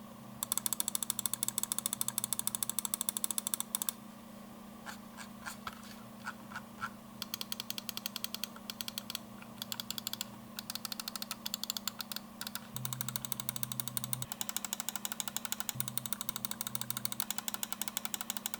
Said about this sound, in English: let's go ahead and do a sound check and test out the switches